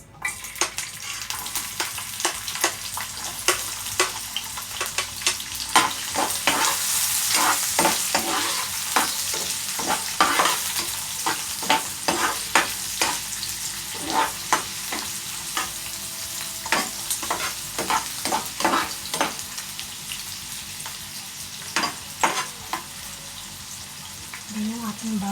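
Onion sizzling in cooking oil in a hot frying pan, a steady broadband fry with repeated sharp stirring scrapes and crackles running throughout, close and fairly loud, with no talk over it.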